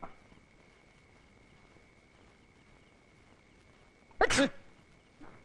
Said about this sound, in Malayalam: ഞാൻ തുമ്മിയതാ.